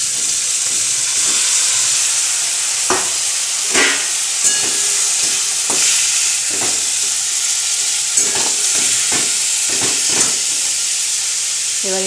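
Grated onion dropped into hot oil with whole-spice tempering for a Sunday chicken dish, a loud, bright hiss of frying with intermittent spatula scrapes and knocks against the pan, close up and without speech.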